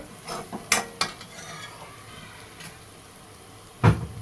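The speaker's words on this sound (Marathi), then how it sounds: "चांगला ह्याचा उग्र वास जाईपर्यंत तळून घ्यायचा" Spring onion frying in a pan while being stirred: a few sharp clinks and scrapes of the utensil against the pan stand out over a faint, steady sizzle, with a louder knock near the end.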